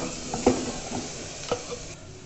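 Chopped tomatoes stirred into a pan of onions for a chana dal pulusu, with a soft steady sizzle of frying and a couple of spoon scrapes against the pan.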